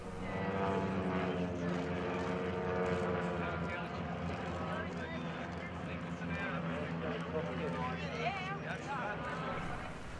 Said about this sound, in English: And then the UTVA 75 trainers, both Serbian products.